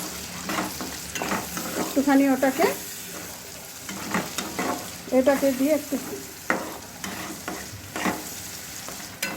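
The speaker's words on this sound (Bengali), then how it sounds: "এবার আমি এর মধ্যে দেব 2টো টমেটো। আমি পেস্ট করে রেখেছিলাম, 2টো টমেটো দেব। দিয়ে এইটাকে দিয়েও একটু ভাজা ভাজা করব।" Tomato paste fries in a pan with spices, a continuous sizzle broken by repeated scraping stirs; someone speaks briefly between the stirring.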